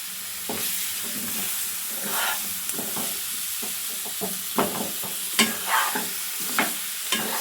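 Chicken masala sizzling as it is stirred and fried in a pan, a steady hiss with clinks and scrapes of the spoon that get sharper toward the end, and no voices.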